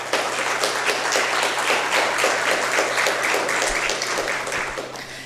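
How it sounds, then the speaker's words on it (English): Audience applauding guests at a legal panel event: a steady, dense round of clapping that holds evenly and fades slightly near the end. "let's have a round of applause for our guests here today"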